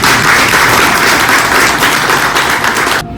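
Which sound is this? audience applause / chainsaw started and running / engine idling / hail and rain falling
audience applause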